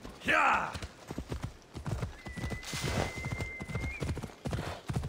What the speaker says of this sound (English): Let's call my mount, let's go riding around a little bit.